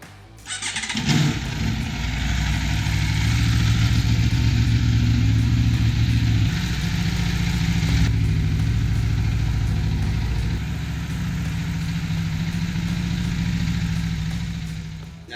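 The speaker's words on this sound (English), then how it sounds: "we're going to start the motorcycle and let it warm up for a few minutes" A motorcycle in a repair shop with its right side fairing removed cranks and fires up, then settles into a steady, close idle as it warms up, the engine running alone for over ten seconds.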